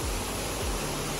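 Stream water rushes at Sahastradhara, a broad, steady hiss of flowing water that stays loud and even throughout, with a couple of low thumps underneath.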